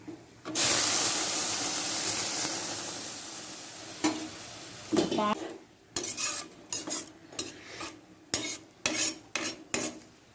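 Milk is poured into roasted vermicelli for payasam, a rushing splash and hiss at first, followed by a series of metal ladle scrapes and clinks as the pot is stirred.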